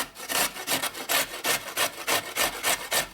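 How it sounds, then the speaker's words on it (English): Carrots grated by hand on a kitchen grater, a steady rhythm of about ten loud rasping strokes back and forth, close and alone with no talk. "So I'm just going to go ahead and grate it."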